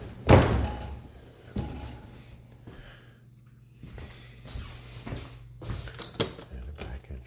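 Doors in an old mill house opening and shutting, several wooden thuds and knocks spread out over a quiet room, with a sharp squeak near the end.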